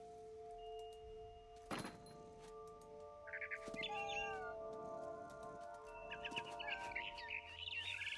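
A cat in the video game What Remains of Edith Finch meows and caterwauls softly several times over sustained background tones, with faint bird chirps scattered through the second half.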